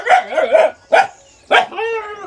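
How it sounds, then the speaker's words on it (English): Aggressive dogs kept at a home with a garden and urban farm bark and yelp close by in three loud bursts, the last trailing into a whining howl. "You can hear our dogs here. Very aggressive."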